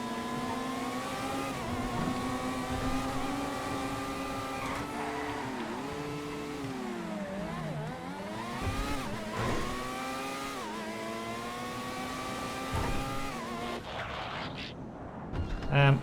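A fast car in the video game GTA, driving and revving, its engine note rising and falling in pitch and sweeping through a deep dip midway, loud and continuous, with occasional talk faintly over it.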